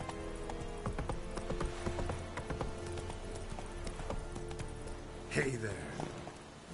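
Roach, a horse in The Witcher 3, gallops with a steady, close clip-clop of hooves, pulling up to a stop near the end while someone speaks over it.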